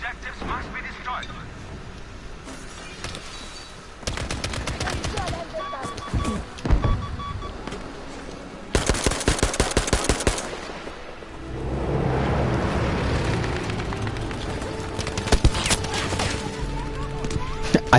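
Bursts of video game gunfire from a shooter with soldiers and objectives, rapid volleys and sustained rattling shots recurring throughout, heard under someone talking.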